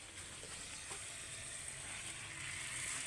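Fish frying in a pan at home, a steady soft sizzle that holds evenly throughout with faint clinks and stirring touches, close and fairly quiet.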